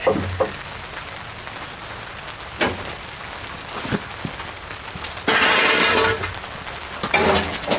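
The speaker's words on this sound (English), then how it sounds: "As you can hear by the tarp, or the tent, it started raining" Rain falls on a tarp tent, a scattered patter of drops with sharp taps and one dense burst of louder rain, heard close and alone.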